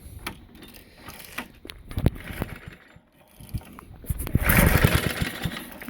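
An old Webb lawn mower from the dump being pull-started: a series of rough starter-cord pulls with brief sputters, then a short surge as the engine nearly catches, close up in an outdoor setting.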